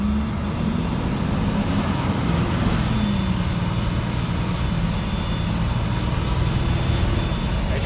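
An International 4300 truck with a DT466 inline-six diesel engine accelerates at wide open throttle from a standstill, a steady loud engine drone with a low rumble that holds throughout without breaks.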